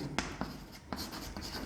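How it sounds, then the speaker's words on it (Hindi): Chalk taps and scratches on a classroom board as a teacher writes during a science lesson, a few brisk strokes with short gaps, close and moderately loud over faint room hiss. "तो मैं यहां पे लिख देता हूं"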